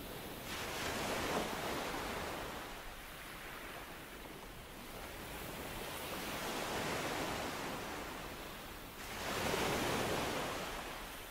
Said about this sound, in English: the waves break like small sighs against